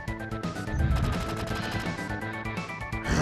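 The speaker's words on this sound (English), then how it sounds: "We can hear machine gun fire." Sustained machine gun fire in the Final Fantasy 7 video game, a dense continuous rattle layered with game music tones, loud and steady for a few seconds with no talk.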